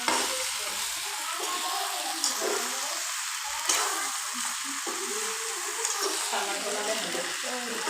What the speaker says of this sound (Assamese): মাংসখিনি দিয়া গ'ল কেৰাহীত।